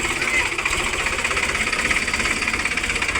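A tractor engine runs steadily nearby with a low, rhythmic chugging throb that holds an even pace throughout.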